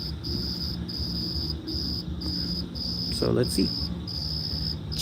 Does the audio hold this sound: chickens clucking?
no